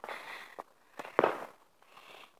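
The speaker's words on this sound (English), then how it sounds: "you guys can see the fireworks going on. Fireworks all over here." Scattered fireworks pop and crackle outdoors at a distance, a few separate sharp bursts over quiet night air.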